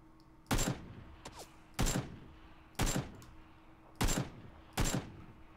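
Gunfire in a video game: five loud, sharp shots spaced about a second apart, close, over a faint steady hum and without talk.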